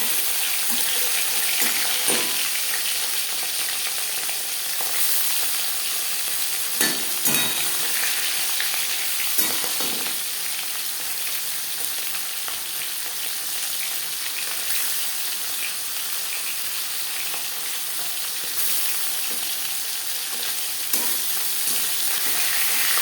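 Marinated bhetki fish fries in hot refined oil with a steady, close sizzle that runs unbroken for over twenty seconds. Occasional sharp clicks and scrapes of a utensil break through the crackle.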